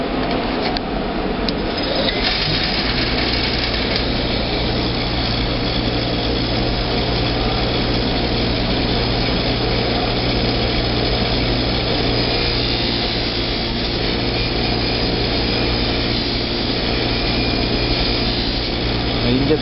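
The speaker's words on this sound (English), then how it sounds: "Get the big areas with the bench grinder, or the smaller areas with the angle grinder." Bench grinder running steadily while stripping paint from drum hardware, a loud continuous motor whine with grinding noise and a low hum throughout, with no break in the sound.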